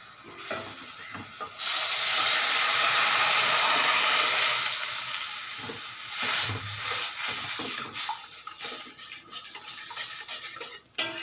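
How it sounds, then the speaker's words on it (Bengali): Dal poured into a hot pan with tempering and mango bursts into a loud, close sizzle. The sizzle fades into softer bubbling and stirring noises. "এবার ডালটা ঢেলে দেবো"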